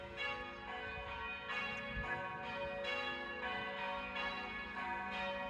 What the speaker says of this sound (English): And the bells there are done by hand.